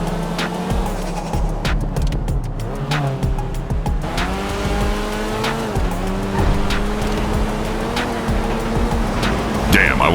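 Car cornering at high speed in GTA Online, engine droning steadily while tires squeal in rising and falling streaks, loud and continuous with a few sharp knocks.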